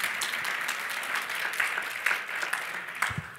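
Audience applause breaks out during a talk by Kevin Johnson, a steady wash of many hands clapping at moderate distance, fairly even throughout with a few louder bursts.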